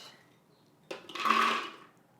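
A cup of walnuts pours into a food processor bowl for gluten-free, dairy-free brownies, a faint clatter lasting about a second that starts with a sharp tick, swells, then trails off.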